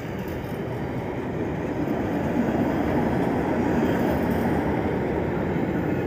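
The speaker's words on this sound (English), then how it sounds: "we have another Great Western Railway HST on our hands" Great Western Railway HST train passing at Didcot Parkway, a steady loud rumbling roar of wheels and engine lasting throughout, with no talk.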